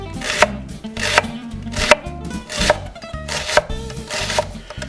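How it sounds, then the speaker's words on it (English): A knife slices a halved fennel bulb thinly on a wooden board, giving about seven evenly spaced, crisp close chops against a steady low musical backdrop. "So, we're going to chop up, slice it real thin."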